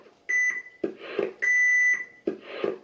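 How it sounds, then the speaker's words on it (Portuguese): Voyager VR 9000 device beeping in a repeating pattern of steady electronic tones alternating with short buzzy pulses, loud and close, heard alone. "Eu acho que vocês querem escutar o bip, né?"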